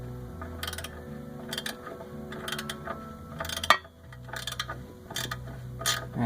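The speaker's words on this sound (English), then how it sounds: "we got the hex wrench holding the stud from turning, and then we have a ratcheting 14 mil" A ratcheting 14 mm wrench loosens a nut on a Toyota Corolla subframe during rack-and-pinion work, with repeated close bursts of quick clicking strokes separated by brief pauses, and a sharp metallic clink midway.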